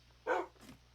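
A tamed dog in the video game Minecraft gives a single short, close bark followed by a fainter trailing yip, isolated against a quiet background.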